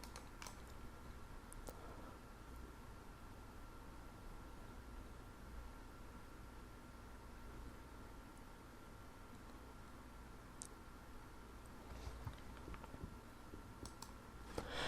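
A computer mouse clicks faintly a few times, quick sharp ticks over a quiet hiss of room noise, with no voice.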